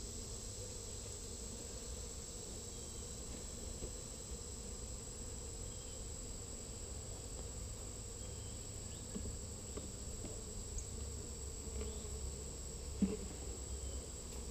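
A continuous, fairly quiet drone of many bees buzzing together inside a beehive, steady throughout, with a brief soft knock near the end.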